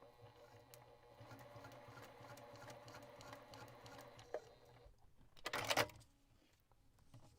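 A sewing machine stitches across fabric for a small thorn piece, its steady motor hum and rapid needle patter running for several seconds before a brief louder burst of handling near the end, with no talk.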